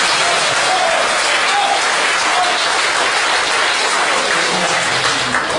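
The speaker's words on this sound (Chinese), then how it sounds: "大伙儿给他鼓鼓掌" A crangsheng comedy audience applauds loudly and steadily throughout, with dense clapping from a live crowd.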